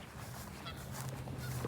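A goose honking outdoors near a fishing spot, a short run of repeated nasal honks, moderately near and steady, with no talking.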